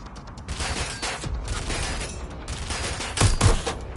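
Gunfire in Watch Dogs Legion, several bursts of rapid automatic shots in clustered volleys with short gaps between them, loud and close, the heaviest cracks near the end, with no talking.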